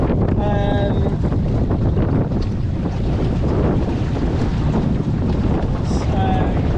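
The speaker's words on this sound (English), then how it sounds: "So the wind has now picked up." Steady wind roars across the microphone while sailing a small boat under jib on a reach, a loud continuous broadband rush with faint tonal whistles near the start and end.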